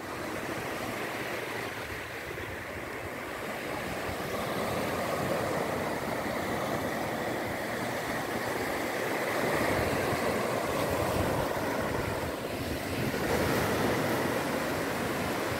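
Surf at a beach on Itamaracá, Pernambuco, Brazil, keeps up a continuous wash of waves with a constant moderate rush and wind, and a faint engine hum sits underneath.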